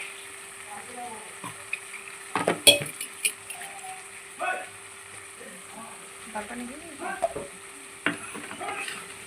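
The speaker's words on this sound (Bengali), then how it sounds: "আমার মশলাটা ভালো করে কষুক" Spice paste with tilapia fish frying in a pan, with scattered scraping and clinking strokes of a utensil and a faint sizzle underneath, close by, in irregular bursts over a steady background hum.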